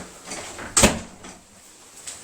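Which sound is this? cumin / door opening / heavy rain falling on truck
door opening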